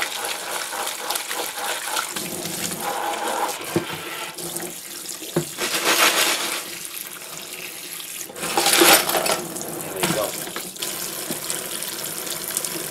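Hot tap water runs over guitar hardware being rinsed in a sink, a steady splashing stream that swells and dips as parts move through the flow, with occasional clinks.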